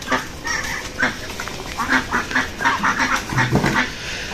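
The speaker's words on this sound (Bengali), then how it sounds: "মাঝখানে যে হাঁসগুলো এগুলো হচ্ছে বেজিং হাঁস যেগুলো বেজিং হাঁস আছে চারটা ঝুটিয়ালা হাঁস আছে" A flock of Pekin and crested ducks quacks repeatedly at close to moderate distance, with overlapping nasal calls in an uneven steady rhythm throughout.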